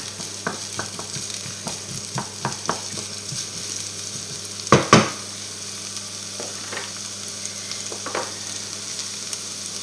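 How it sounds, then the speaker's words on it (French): Onions and garlic cook in olive oil in a pan, a soft sizzle punctuated by scattered stirring clicks and a louder clatter near the middle, with no voices. "pour faire cuire mes oignons et mon ail"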